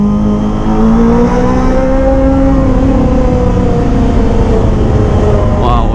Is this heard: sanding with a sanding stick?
no